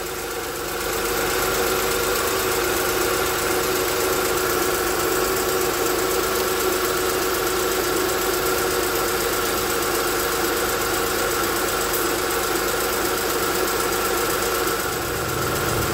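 Honda V6 engine idling steadily after an oil filter adapter repair, a continuous close mid-pitched running drone with a faint ticking texture, no voices.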